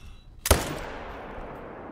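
A single rifle shot at a tiger in theHunter: Call of the Wild cracks loud and sharp, then trails off into a long rumbling echo over faint ambient background.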